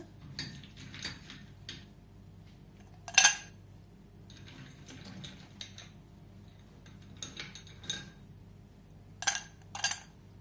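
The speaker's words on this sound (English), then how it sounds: "I'm going to use a stem glass, and I'm going to add some ice" Several light glassy clinks and taps, a few sharp bright knocks spaced over quiet background, as ice cubes drop into a stem glass.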